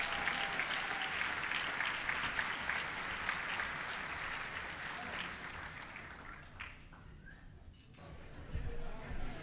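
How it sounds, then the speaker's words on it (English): An audience claps steadily and fairly close, a dense wash of applause that slowly thins out toward the end. "how about a round of applause for our great looking group tonight"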